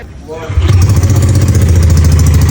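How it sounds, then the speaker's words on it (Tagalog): A motorcycle being sneaked out at night starts up and settles into a loud, steady, rumbling idle close by, with no talking over it. "Tinatakas yung motor, tignan natin kung sino yung tumatakas."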